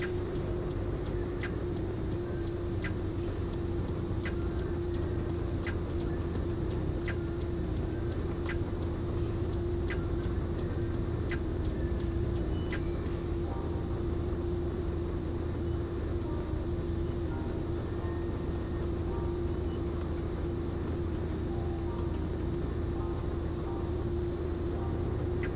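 Pilatus PC-12 single turboprop engine in a flight simulator during the takeoff roll, a loud steady drone with a strong low hum held constant throughout, faint ticking clicks repeating regularly in the first half.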